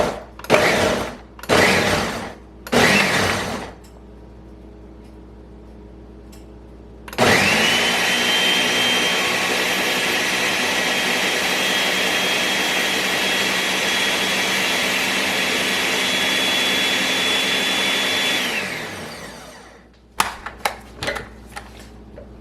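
A blender runs steadily for about eleven seconds, a loud whirring motor roar as it purees a mix with sour cream, preceded by a few short bursts of clatter and followed by light knocks.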